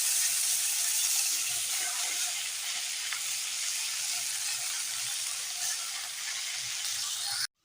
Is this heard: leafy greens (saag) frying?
yes